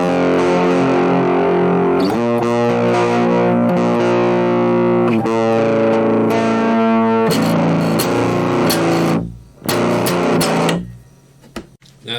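Heavily distorted electric guitar in drop A tuning, through a Line 6 POD 2.0 tube preamp setting, chugs and sustains chords loudly, with a brief drop before the playing resumes.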